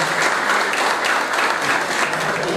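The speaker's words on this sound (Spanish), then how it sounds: "Un fuerte aplauso y bienvenidos a todos ustedes" Dense, steady audience applause fills a hall at the 20th anniversary dinner event of the Asociación Mutual Singler Club, a loud, continuous wash of many hands clapping with no voices standing out.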